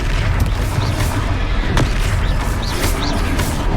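Confringo fire spell explosions in the Hogwarts Legacy video game, heard as dense booming blasts and bursts over a constant loud rumble of battle, with a few short spell whooshes, close and continuous.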